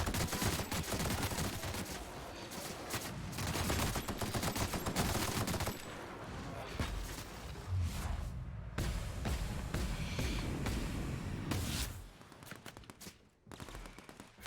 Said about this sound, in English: you were shooting at a primal beneath the ground